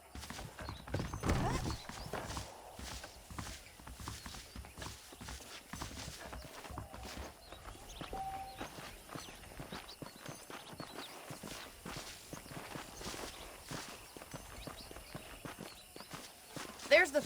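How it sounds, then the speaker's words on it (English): Saddled horses clip-clop at a walking pace through a Western town in Red Dead Redemption, a soft irregular patter of hooves under continuous talk, with a brief louder stretch early on. "The horses are saddled up over here."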